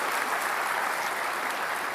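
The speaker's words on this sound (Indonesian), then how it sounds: "Bisa kita kasih tepuk tangan juga untuk Mas Anies Baswedan untuk pembukanya." Audience applause for Anies Baswedan at a political debate with Ahok, a steady dense wash of clapping that holds evenly for about two seconds with no voices over it.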